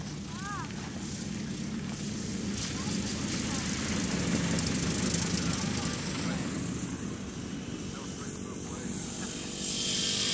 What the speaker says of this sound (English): Here comes some kind, I don't know what kind of plane this is.